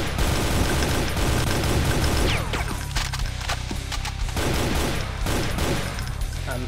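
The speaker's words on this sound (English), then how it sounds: "Gonna hit by some chain gunners in the distance." Chaingunner enemies fire from a distance in the video game Brutal Doom, a dense, continuous rattle of rapid gunfire mixed with explosions and game noise, loud and steady throughout.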